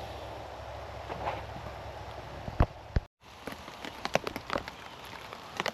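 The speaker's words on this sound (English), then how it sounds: "It's raining a little bit" Light rain patters on a tarp shelter during a survival camp, a soft steady hiss with scattered sharper drops tapping close by, alone without voices and a brief dropout midway.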